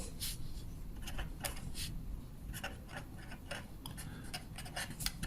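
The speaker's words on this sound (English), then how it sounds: "let me write that down" Chalk or marker writing on a board, a series of short scratchy strokes and taps in irregular rhythm, close but faint, with no voices.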